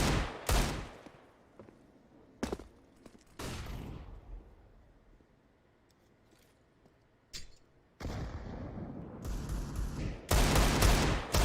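Counter-Strike gunfire in a professional esports match, mostly pistols, sprayed toward an enemy position: loud bursts of shots separated by quieter stretches, with a dense run of firing near the end.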